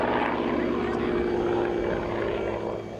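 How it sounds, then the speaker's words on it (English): A Grumman warbird propeller fighter flies past, its engine drone loud and steady with broadband roar, then fading slightly toward the end. "These airplanes fly, the sounds are there"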